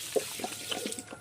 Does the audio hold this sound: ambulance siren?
no